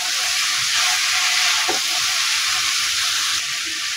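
Cauliflower, potato and carrot fry being stirred in a pan, a dense steady sizzle with a brief scrape of the spatula partway through, close and fairly loud with no talking.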